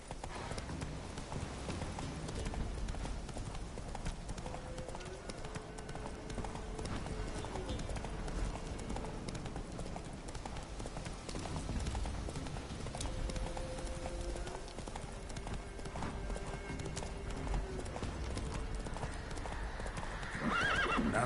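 Roach, a horse in The Witcher video game, gallops with steady, rapid clip-clopping hooves and lets out a couple of whinnies along the way, all fairly quiet beneath a musical score.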